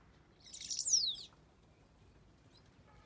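Birds nesting in the boom of a sailboat anchored off Madagascar give one short, bright, descending chirp. The call is fairly close and moderately loud over a quiet, steady background.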